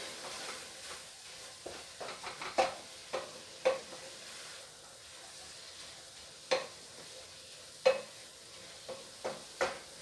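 Onions being stirred into a hot pan, a soft ongoing sizzle broken by scattered sharp scrapes and taps of the utensil against the pan, fairly quiet and close with no voices.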